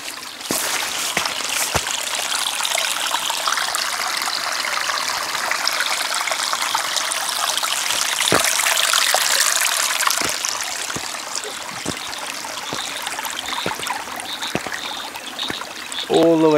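Water runs steadily down rocks in a stream along the Fish River, a continuous close trickling rush with scattered splashes and a few faint clicks, holding level throughout.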